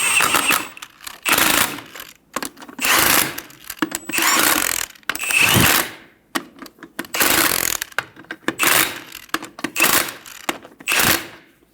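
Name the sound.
tightening car lug nuts with a ratchet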